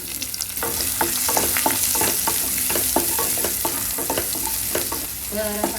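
Onion and bay leaves fry in oil in a wok, a loud continuous sizzle broken by a rhythmic series of spatula scrapes and stirs, close up with no voices.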